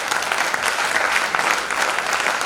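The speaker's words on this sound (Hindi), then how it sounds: "एक बार इनके लिए जोरदार तालियां बजाइएगा" Dense, steady applause from an audience at a college theatre event for a staging of Uttar Ramcharitam, a crowd clapping loudly and evenly throughout with no voices over it.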